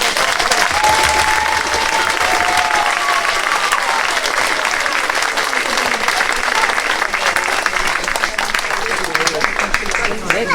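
Loud, sustained applause from a congregation for the children at a parish end-of-year celebration in the Val d'Orge sector, steady and dense throughout, with faint voices beneath.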